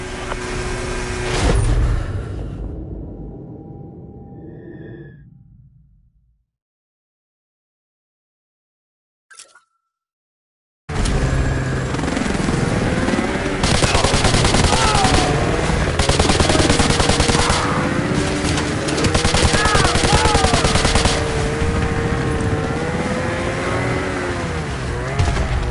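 Sustained heavy gunfire and engine noise during a vehicle escape in Modern Warfare 2 Remastered, loud and dense after a stretch of near silence, with a revving motor running under the rapid shots.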